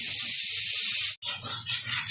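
Butter sizzling in a hot kadai on the stove, a loud, close hiss that cuts out for an instant and then resumes just as steadily.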